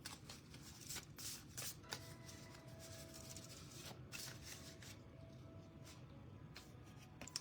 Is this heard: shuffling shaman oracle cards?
yes